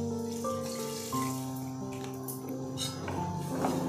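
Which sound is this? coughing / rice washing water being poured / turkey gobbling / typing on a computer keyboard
rice washing water being poured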